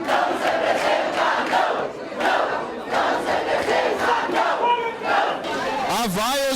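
A packed crowd at a city council session in Itapetininga shouts and jeers at the councillors, loud rhythmic chanting surges with sustained crowd noise throughout.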